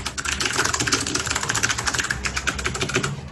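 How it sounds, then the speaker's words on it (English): Rapid, dense clacking of keys on a computer keyboard, a continuous close, crisp patter of keystrokes at steady loudness throughout with no talk. "Some hardcore keyboarding."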